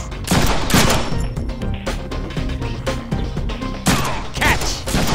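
Gunfire in the Deadpool video game: loud, close bursts of rapid shots separated by brief gaps, with sharp cracks layered over a busy low rumble.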